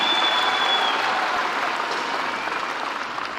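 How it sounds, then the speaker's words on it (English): Audience applause for the Deputy President at a Kenya Kwanza manifesto launch in Kasarani, a broad, steady clapping from a large crowd lasting the whole moment and slowly easing off. "Another round of applause for His Excellency, the Deputy President"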